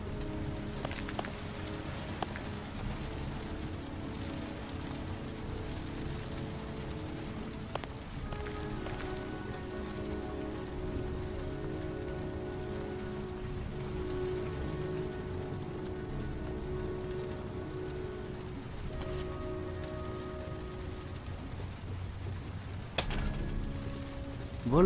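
Steady rain patter from the video game Heavy Rain fills the scene, with occasional brief clicks and knocks above the constant hiss and a low mechanical hum underneath.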